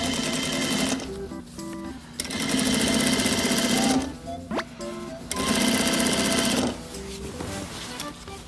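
A sewing machine stitches the waist of a pleated school-uniform skirt in long, loud, steady runs broken by short pauses, with brief quiet handling sounds between the bursts.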